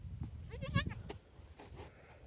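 A single wavering goat bleat, fairly faint, with soft rustling and a brief higher cry of a kid in the background.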